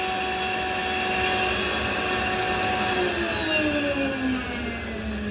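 Vacuum cleaner running steadily at full power, a loud constant whirring drone with a slight pitch drift toward the end, alone with no talk.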